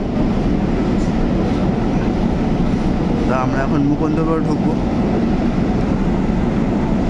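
A Kolkata metro train runs with a loud, steady rumble and rattle throughout, while a person talks over the noise for part of the time.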